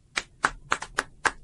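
Scattered, hesitant claps from a small studio audience at a radio talk show, about five or six distinct hand claps spaced irregularly, close and quiet with silence between them.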